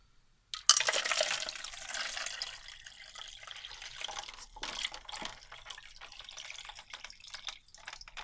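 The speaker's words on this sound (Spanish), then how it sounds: "aquí está el hielo, la vertemos sobre la mezcla." Ice water is poured from a container over a mixture in a calorimeter, giving a sudden loud splash and gush that settles into trickling, dripping and sloshing of liquid, heard close up with no talking.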